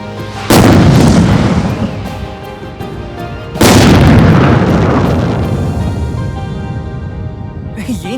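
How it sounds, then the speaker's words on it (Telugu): A big bomb goes off in two loud, booming explosions, each a sudden deep blast that rolls on and slowly fades, the second about three seconds after the first. "మన పెద్ద బాంబు పెట్టాలి"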